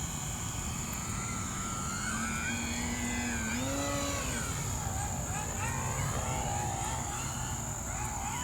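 A radio-controlled model airplane, a Husky-type bush plane, drones in flight with a high buzzing engine whose pitch rises and falls as it passes. The sound is continuous and fairly loud over outdoor wind noise.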